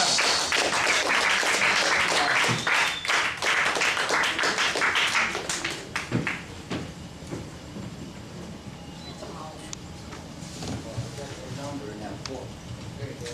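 Audience applause for a reader at a zine release party at the Bowery Poetry Club, loud dense clapping for about six seconds that thins into scattered claps, followed by murmuring and talk.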